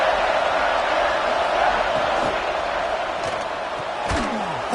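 Football stadium crowd at a Florida State versus Michigan game, a loud, sustained roar of cheering and noise filling the stands with no clear break, distant shouts blended into a steady wash.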